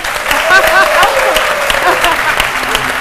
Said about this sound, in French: on applaudit très fort pour les sapeurs-pompiers qui sont venus nous surprendre ici dans ce studio